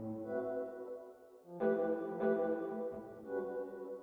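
A music production demo of a gated, pumping reverb on a synth part, giving a choppy, stuttering wash with sharp re-entries, moderately quiet and without talking.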